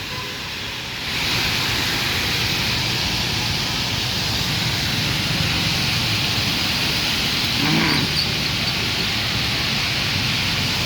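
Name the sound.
heavy rain on road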